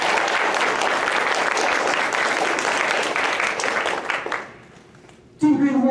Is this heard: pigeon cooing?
no